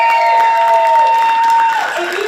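Audience applause with some cheering welcoming a speaker on stage at a ClimateFest Pecha Kucha presentation, a steady wash of clapping that holds loud and close throughout before thinning slightly at the end.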